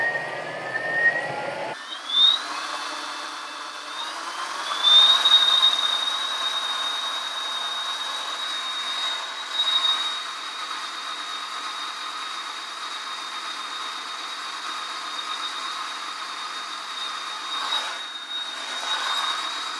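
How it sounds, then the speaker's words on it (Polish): A Thermomix food processor gives a loud, steady high-pitched motor whine that starts abruptly and holds for the rest of the clip, with a faint rising tone as it speeds up. "jak termomix troszeczkę się rozkręci, to zwiększamy stopniowo do dziesiątki"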